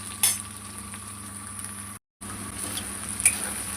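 Okra fries in a pan while being stirred, giving a steady crackling sizzle with occasional light clinks of the utensil, broken by one brief dropout.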